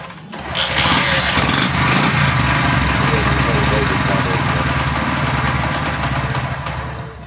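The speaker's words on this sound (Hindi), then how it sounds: "अब हम मोटरसाइकिल बाइक को स्टार्ट करते हैं" Motorcycle engine wired without a pulser coil starts abruptly and settles into a loud, steady idle with a rapid, buzzing putter, close by and continuing on its own.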